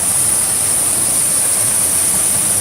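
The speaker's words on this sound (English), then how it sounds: "There's the falls, comes to a little river." Steady broadband rush of the artificial Copper Creek Falls at Wilderness Lodge, water pouring into a small river, continuous and fairly close with no voices over it.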